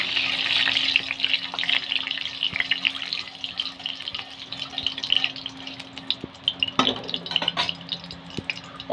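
Sugar and spices sizzle in hot oil in a kadai as a bright, steady frying hiss, close by, with scattered taps and clinks of a utensil, a few sharper knocks near the end, and no talking.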